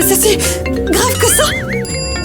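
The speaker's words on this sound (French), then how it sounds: "C'est juste mon téléphone." A mobile phone ringtone warbles in a wavy electronic melody, heard under overlapping French speech in a ballet school setting.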